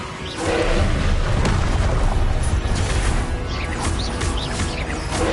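A Confringo spell in a wizard video game sets off a loud, sustained blast, a roaring explosion that swells in and rumbles on for several seconds with crackling debris on top.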